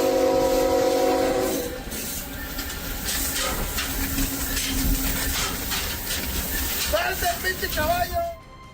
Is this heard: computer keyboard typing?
no